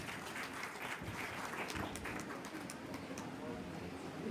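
Faint, distant applause at a Bihar Police constable final-selection felicitation ceremony in Gopalganj, steady crowd clapping for a teacher, heard thin and far off with a murmur of voices.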